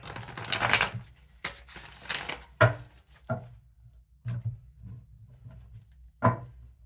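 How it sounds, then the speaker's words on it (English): Tarot cards being shuffled in several separate bursts: a long riffle at the start, then shorter crisp flutters and taps spaced apart, close and clear. "Something's telling me only 3 shuffles this time."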